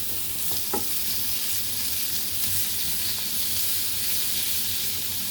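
Sausage browning in a pan, a loud, dense sizzle and hiss held steady throughout, with a couple of brief knocks from stirring near the start and no speech.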